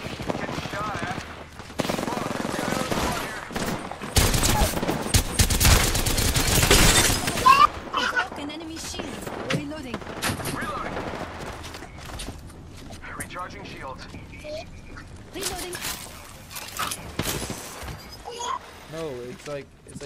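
Video game gunfire rattles in dense bursts, loudest early on, mixed with energy-beam effects while players talk over the action.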